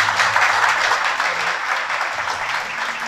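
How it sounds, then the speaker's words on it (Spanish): A church congregation claps together in a dense, steady round of applause that continues through the whole stretch without any talk. "Un aplauso a nuestro creador."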